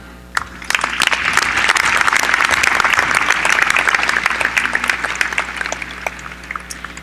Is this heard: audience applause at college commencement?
yes